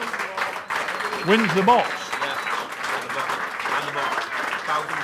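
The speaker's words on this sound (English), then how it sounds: "if you'd like to give them all a big round of applause" A round of applause for a medal winner at the Renwick Rose Bowl Final bowls presentation, steady crowd clapping with people talking over it and a brief vocal interjection.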